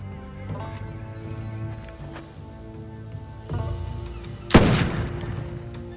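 A matchlock gun fires once in Assassin's Creed Shadows, a loud sharp blast near the end that rings out over a low musical backdrop.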